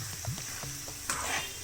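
Mustard seeds, cumin and curry leaves crackle and sizzle in hot oil for a tomato pickle tempering, a close, continuous frying hiss with a sharper spitting burst as the leaves go in.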